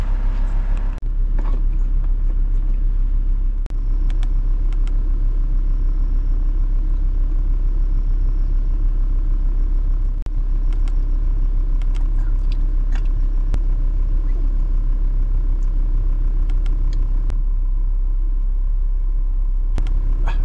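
A Volvo V70 engine idles after being started, a steady low rumble running throughout with faint intermittent clicks above it and no talking.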